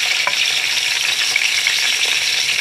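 Tomatoes go into a hot pan of beef korma, and a loud, steady hiss of frying fills the air, constant and close with small crackles and no pauses.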